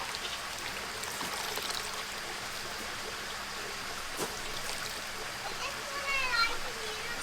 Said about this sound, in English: drain off all the water.